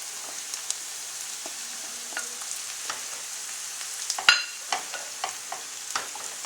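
Ham pieces frying in olive oil with onions and garlic over high heat, a steady close sizzle broken by scattered clicks, spatters and a sharp scrape of stirring near the middle.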